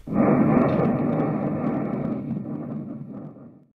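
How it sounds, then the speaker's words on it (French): Volcano explosion sound effect in a children's story reading: a loud, sustained rumbling roar of deep noise that fades out after a few seconds, with no voices. "Le souffle de l'explosion projette Charles dans les airs comme un boulet de canon"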